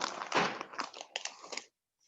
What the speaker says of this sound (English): We hear you munching.